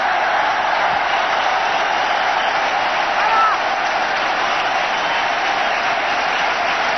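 Dense, sustained applause from a large cricket stadium crowd celebrating Sachin Tendulkar's century, a steady roar of clapping at even loudness from start to finish with no breaks.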